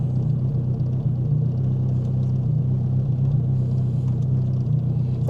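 A Geo Prizm engine runs as a steady, close low rumble with a constant level throughout, no starter cranking distinguishable, and no talking.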